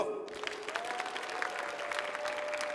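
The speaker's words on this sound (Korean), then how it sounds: "자, 선생님 나오십니다. 박수!" An audience at a Korean science creativity concert rehearses a round of clapping for a teacher walking on stage, a brisk even patter of many hands that swells in after a moment and holds steady.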